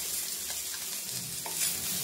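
Sardines coated in rava frying in oil on a flat tava, a steady close sizzle with faint stirring scrapes, no talk.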